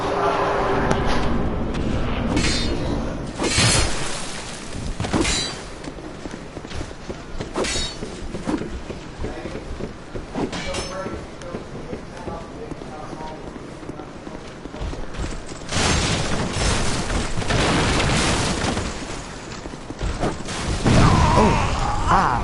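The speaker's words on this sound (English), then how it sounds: "you got caught with that fire urn thing" Fire urn bursting in Dark Souls II: Scholar of the First Sin amid repeated loud booming, shattering impacts and running footsteps, with dense game combat noise throughout.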